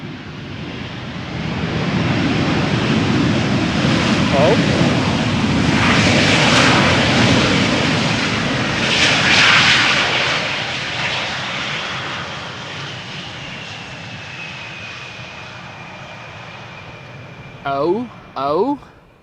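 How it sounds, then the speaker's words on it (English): An airliner lands at Amsterdam Schiphol Airport on a sunny summer day, a loud broad jet roar swelling as thrust reversers briefly engage, then fading to a lingering whine; a voice speaks faintly near the end. "that was a little bit of reverser use there"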